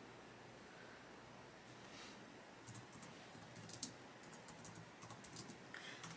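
Quiet, scattered keystrokes on a computer keyboard during graphics work for screen-printing color separations, soft clicks over a steady background hiss with no talking.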